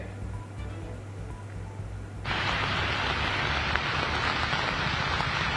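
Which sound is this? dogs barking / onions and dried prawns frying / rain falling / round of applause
rain falling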